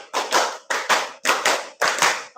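Classroom of students clapping together to a counted rhythm, four crisp, loud bursts of unison claps in a steady pulse with short gaps between them.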